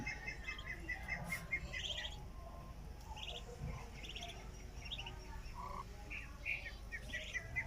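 Newly hatched ducklings chirp while being fed, scattered high peeps and tweets rising over a steady low background rumble, no voices.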